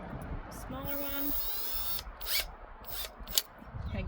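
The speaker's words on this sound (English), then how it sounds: "so I can drill my other hole" A power drill whines briefly, rising in pitch as it bores a hole for rock light installation on a Ram 2500 truck, followed by scraping, clicks and handling noises, with a person talking at times.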